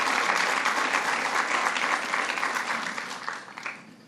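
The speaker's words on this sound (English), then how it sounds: "let's give Congressman Espaillat a special round of applause for being the champion when we needed one" An audience at a governor's child care announcement breaks into sustained, loud applause, a dense wash of clapping that holds steady and then tapers slightly toward the end.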